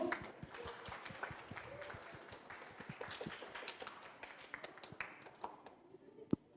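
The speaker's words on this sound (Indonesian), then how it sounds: "Mari kita berikan tepuk tangan yang meriah." A training-session audience at Sultan Agung Islamic Hospital in Banjarbaru applauds a speaker, giving scattered, fairly faint clapping from a small group in a room that stays steady and then trails off.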